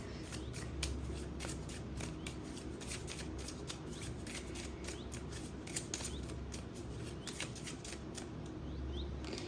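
Tarot cards shuffled by hand in a love reading, a dense run of quick crisp riffles and flicks that goes on steadily over soft background hiss, close to the ear and with no speech.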